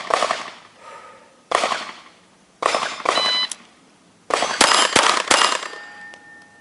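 Gunshots from a 1935 Beretta .32 ACP pistol on a shooting range: a run of sharp, loud cracks, several close together, each with a short ringing echo tail and quiet gaps between groups.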